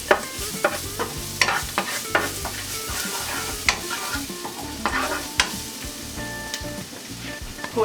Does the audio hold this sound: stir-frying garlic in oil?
yes